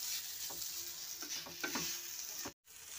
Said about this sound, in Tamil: ஜஸ்ட் இந்த நெய் வந்து எல்லாத்துலேயும் வந்து படுற மாதிரி நல்லா வந்து பரட்டி எடுத்துக்கோங்க